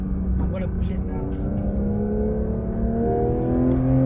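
A Porsche 911 992 GT3 accelerating hard around the Sepang circuit, its engine note climbing steadily in pitch from inside the cabin, loud and sustained, with a voice talking over it.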